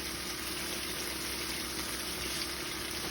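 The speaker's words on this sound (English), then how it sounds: "I'm gonna wash my hands." Tap water runs in a steady, even rush for handwashing in a home kitchen while lamb sears, a constant hiss with no pauses and no talking.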